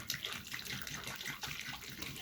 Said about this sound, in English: And you add your water, depending on how much you want to have to work it.